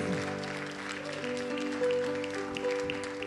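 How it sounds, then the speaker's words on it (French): A church audience gives a pastor a final round of applause, a sustained wash of clapping with faint tonal sounds underneath. "On peut lui donner une dernière main d'applaudissements."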